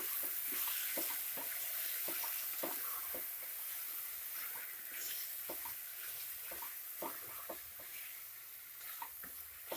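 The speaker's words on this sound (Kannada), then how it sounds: "ಈ ಮಸಾಲೆ 1-5 ನಿಮಿಷ ಚೆನ್ನಾಗಿ ಫ್ರೈ ಆಗಲಿ, ಹಸಿ ವಾಸನೆ ಎಲ್ಲ ಹೋಗಬೇಕು" Ground masala paste fries with vegetables in a pan for vegetable rice bath, giving a soft continuous sizzle broken by regular scraping taps of a stirring spoon.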